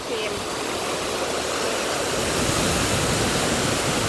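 Strong, rushing water roars steadily and close by in Cambridge, England, a dense, unbroken wash of noise with no letup for the whole stretch.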